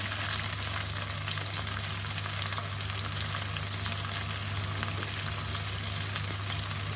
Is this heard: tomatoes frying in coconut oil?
yes